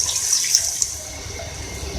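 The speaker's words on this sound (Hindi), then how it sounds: "3 कप मैंने पानी इसमें शामिल कर रही हूँ।" Water poured from a cup into a pot of aloo gosht, meat and potato curry, a brief steady splashing trickle heard close up with no talking.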